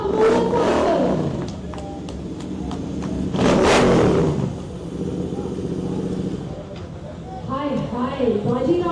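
A modified vintage custom motorcycle is ridden onto a stage, its engine revving in loud surging bursts with a strong peak midway, while an announcer talks over it and a crowd cheers.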